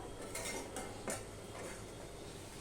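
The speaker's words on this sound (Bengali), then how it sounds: "এবার আমি এটাকে একটুখানি নেড়ে দিচ্ছি" Food with fish oil is stirred in a pot, with soft scraping and light metallic clinks of a spoon against the pot, fairly quiet with a few brighter knocks.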